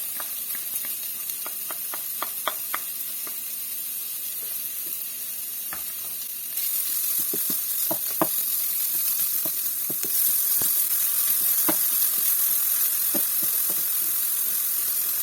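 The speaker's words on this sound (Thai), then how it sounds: "พอพริกของเราหอมได้ที่แล้วนะคะทุกชม เราก็จะใส่หมูบดลงไปค่ะ" Ground pork hits fragrant chili curry paste frying in a pan for Northern Thai green young jackfruit salad, giving a steady close sizzle with crackles and stirring clicks that swell louder partway through.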